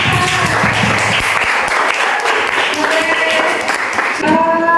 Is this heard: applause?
yes